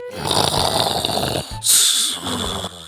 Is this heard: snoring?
yes